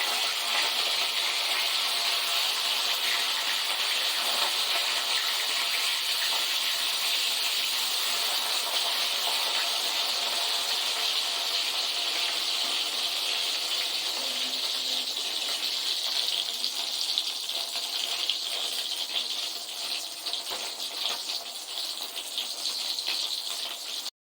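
Fish frying in a pan at home, a steady bright sizzle that hisses on without a break and fades slightly near the end.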